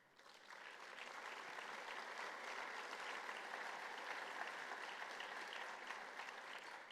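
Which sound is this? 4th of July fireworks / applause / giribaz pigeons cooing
applause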